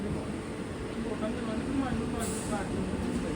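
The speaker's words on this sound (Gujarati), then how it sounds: "ફાઇનલી દોસ્તો, રાજકોટથી આપણી ટ્રેન નીકળી ગઈ છે" The Rajkot–Coimbatore Express 16613 pulls out of Rajkot platform 4, heard from inside a general coach as a steady low rumble with faint rhythmic clatter and no talking.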